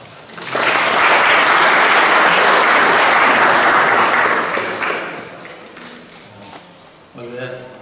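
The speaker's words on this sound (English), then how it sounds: "please give him a very warm round of applause" An audience applauds a speaker at a talk, a loud, dense burst of clapping that swells quickly, holds steady for several seconds, then fades out before a voice begins speaking near the end.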